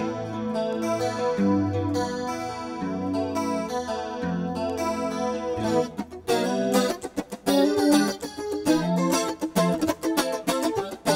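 Electric guitar played through a 90s-style tri-chorus effect with reverb and boosted treble EQ, shimmering sustained chords that shift into brighter, choppier strummed passages, loud and alone.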